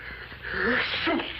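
A single wet, drawn-out sneeze, close and fairly loud, with a breathy build-up before the burst.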